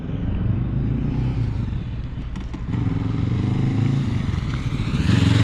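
Motorcycle engine running steadily as the bike weaves through a slalom at a riding school, a continuous close rumble with slight rises and falls in revs and some clatter, no talking.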